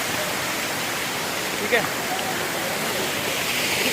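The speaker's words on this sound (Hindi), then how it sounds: "बिल्कुल देखिए नेचुरल वाटरफॉल के नज़दीक" A natural waterfall beside a mountain path on the Kedarnath trek roars as a dense, steady rush of water close by, with a brief voice speaking over it.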